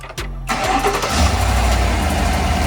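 A BMW M5 engine cranks briefly after a new battery install, catches, and settles into a loud, steady idle close by.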